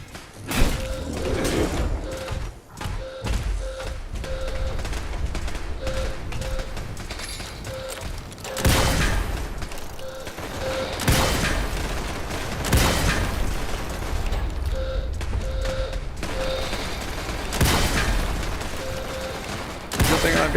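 Automated base turrets firing in Fallout 76, repeated bursts of gunfire with thumping impacts over a steady background, while someone talks at times.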